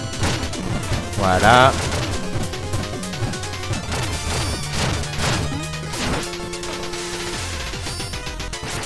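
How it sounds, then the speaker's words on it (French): Bombs exploding in the video game Shovel Knight, loud crashing bursts over steady chiptune music, with someone talking over the game. "il va nous envoyer les bombes. Donc on reste planqué dans un coin. On évacue la bombe qui tombe à côté de nous"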